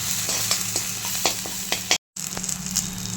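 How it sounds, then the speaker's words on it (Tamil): Mustard seeds and crushed garlic fry in hot oil for an egg curry, giving a steady dense sizzle with scattered crackling pops, briefly cut off by a short silent gap. "ஒரு 8 பல்லு உரித்து தட்டி வச்சுருக்கிற பூண்டு நல்லா பொன்னிறமாக ஃப்ரை ஆகட்டும்."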